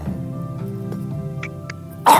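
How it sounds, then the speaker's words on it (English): A single close cough into a hand, a short loud burst near the end, following a few seconds of quieter studio background at the close of a talk show. "I coughed in my hand."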